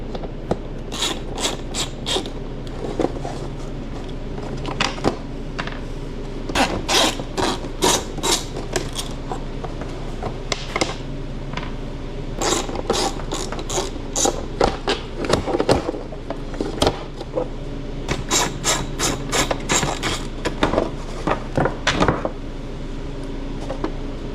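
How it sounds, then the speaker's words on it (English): Torx screws are backed out of the plastic seat of a Polaris IQR snowmobile with repeated ratcheting clicks and scraping turns in short runs, close and moderately loud, with no talking. "it looks like we got Torx to get this piece off"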